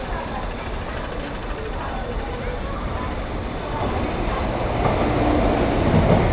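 A train arriving at a KCR station in Hong Kong rumbles and clatters loudly nearby, a dense continuous roar of wheels and carriages that grows slightly louder toward the end.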